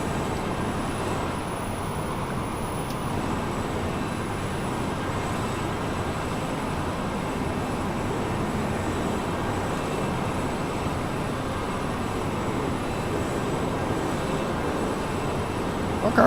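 F-4 jet flying low overhead: a steady, loud broadband roar holds for the whole stretch without fading, a distant, sustained engine rumble that plays with no talk over it.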